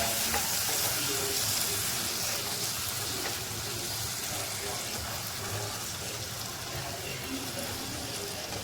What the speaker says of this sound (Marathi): आपण मस्त तेल चारी बाजूने सुटलेलं आहे परत एकदा हलवून घ्यायचं